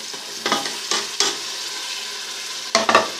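Tomatoes frying in a pan for aloo palak, with a soft sizzle under a few loud, close stirring scrapes that come in short bursts.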